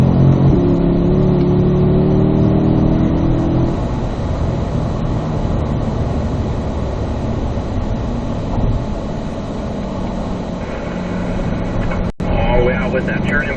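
Corvette on a race track, its engine roaring steadily as it accelerates and climbs through the gears, loud and close throughout, with a voice talking over the drone.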